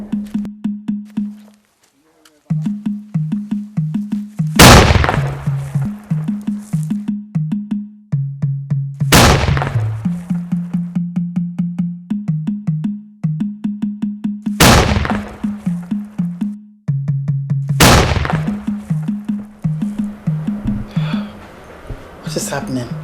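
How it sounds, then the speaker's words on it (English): Four loud, booming cannon blasts, each a sharp crack with a long tail, go off a few seconds apart over steady rhythmic drumming and music in a royal court drama. "and now the cannon."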